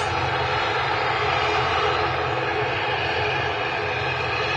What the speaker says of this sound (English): And we have a TUI Dreamliner